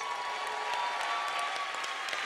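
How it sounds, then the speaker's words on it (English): A church congregation applauds for a teen group, a light, steady patter of clapping that holds for a couple of seconds without cheering. "I expected a bigger clap than that."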